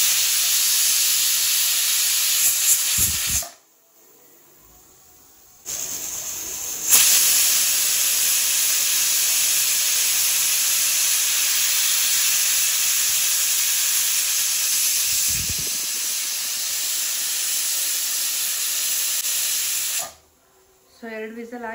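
A pressure cooker on a gas stove releasing steam, a loud and steady hissing whistle that runs for several seconds, breaks off briefly, then returns.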